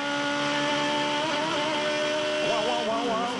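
An Aussie Racing Cars race car engine heard on board at Winton, a steady droning note that wavers and jumps as the car runs over bumps, loud and continuous throughout.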